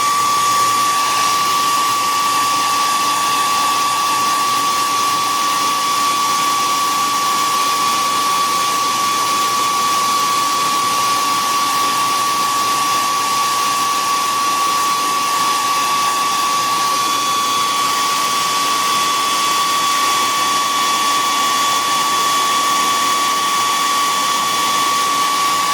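Heat gun blowing hot air while paint is dried on a twisted Santa figure, a steady continuous whine with a high tonal hum, close and unbroken throughout.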